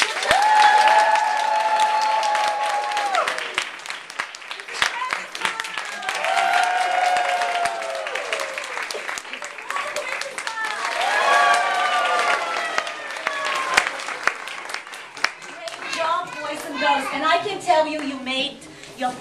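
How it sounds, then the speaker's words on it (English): Audience applause for an elementary school class at a school event, sustained clapping filling the whole stretch with cheering voices and adult speech over it, dense and fairly near. "applause for Miss Longo's class"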